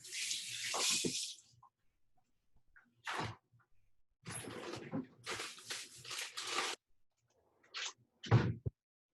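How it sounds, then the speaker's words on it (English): Hands rinsed under a running kitchen tap while preparing a tofu dish with mango salsa, heard as several separate bursts of splashing water with short quiet gaps between them, close by and with no talk. "Let me just rinse my hands."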